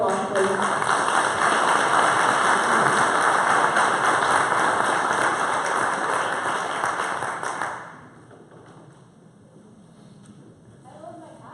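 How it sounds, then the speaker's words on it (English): A conference audience applauds after a talk, a loud, dense burst of clapping lasting about eight seconds before fading, followed by a quiet room with a faint voice near the end. "Let's give her another round of applause, please."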